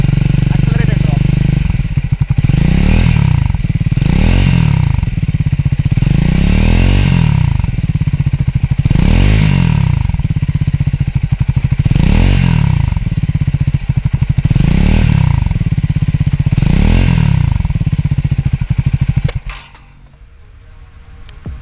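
A Triumph Scrambler 400X motorcycle's roughly 400cc engine revs hard in repeated loud rising surges, about seven throttle pulls in a row, close and steady, then cuts off abruptly near the end.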